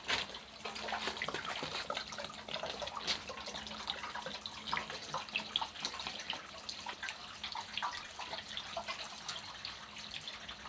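Rust remover liquid pours and splashes out the front of a Peugeot 103 moped fuel tank, a steady, close, continuous watery gush with small drips and splashes and no talking.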